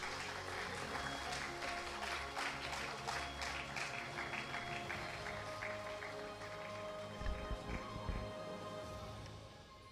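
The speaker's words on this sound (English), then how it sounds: "Keep going the big round of applause in recognition of his hard work and commensurate" At a national professional conference award ceremony, the audience gives a sustained round of applause with distinct clustered claps, fading gradually with some low thumps near the end.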